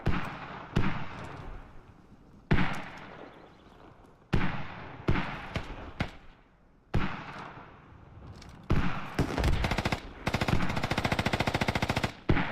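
Machine gun bursts in a tactical game match, loud and close, coming in several sharp volleys separated by short pauses, with a long rapid rattling burst near the end.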